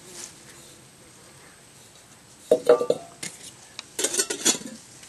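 A small homemade cook kit made from a coffee can, with a smaller can stored inside and the lid kept, clanks and rattles as it is handled, quiet at first and then bursts of metallic clinks near the end.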